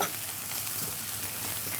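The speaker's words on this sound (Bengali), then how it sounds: "সরিষার তেল দিয়ে দিব 2 টেবিল চামচ।" Mustard oil sizzles with spices in a pan, a close and even crackling hiss with a faint stirring texture, steady throughout and without any voices.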